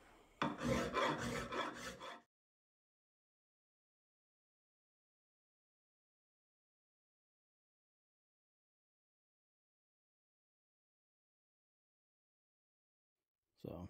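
A hand file rasps a bevel into a wooden pattern in a short burst of close, steady strokes lasting about two seconds, followed by near silence.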